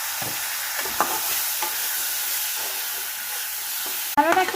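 An onion, garlic and tomato spice paste sautés for paneer tikka masala, giving a steady close sizzle with light stirring taps throughout. A short spoken remark comes at the very end.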